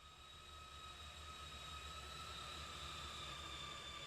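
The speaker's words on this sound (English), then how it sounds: "That Amtrak train." Amtrak train of four FP40 locomotives hauling baggage express cars through a city-building game, a steady, even rumble with droning tones that stays loud and constant throughout.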